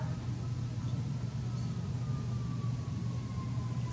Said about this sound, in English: And that is the siren outside.